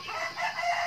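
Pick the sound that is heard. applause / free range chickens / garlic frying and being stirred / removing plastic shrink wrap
free range chickens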